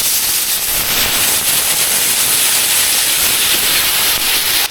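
A mustard and cumin paste hits hot oil in a pan, giving a loud, steady, broad sizzle and hiss that holds without a break, close up and with no talk.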